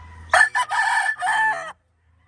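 A Brazilian Kelso gamecock rooster gives a single loud, close crow in several broken segments, lasting about a second and a half, followed by silence.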